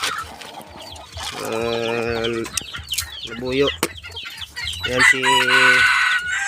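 A labuyo junglefowl decoy rooster crows and clucks up close in repeated calls, with short bursts of other bird chatter and a brief voice in between.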